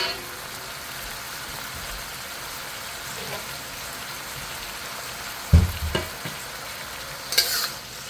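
Baby bok choy stir-frying in a wok for a Cantonese vegetarian dish: a steady sizzling hiss with a couple of louder clanking tosses and scrapes near the end, close and without talk.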